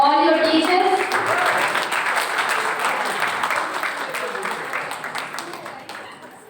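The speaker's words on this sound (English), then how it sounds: "Can you all give a huge round of applause to all your teachers?" A graduation day crowd gives a round of applause for the teachers. A voice is heard briefly at the start, then steady, dense clapping gradually fades.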